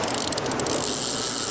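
The drag of a fishing reel on a beach ratchets in quick clicks as a fish pulls out line, heard as a steady, close mechanical clatter against a wash of background noise.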